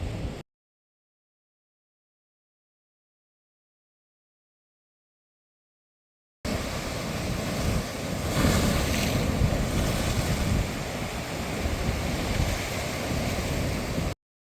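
Ocean waves roll and break against the rocky shore at Schoodic Point in Acadia National Park, Maine, with strong wind buffeting the microphone in a loud, continuous wash after a brief start and a long silent gap.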